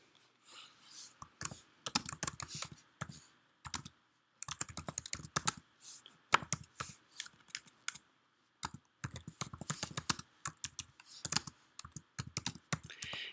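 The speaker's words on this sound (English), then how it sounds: "Just click in the box and type what you need" Typing a note on a computer keyboard, bursts of quick key clicks broken by short pauses, close but fairly quiet, with no talking.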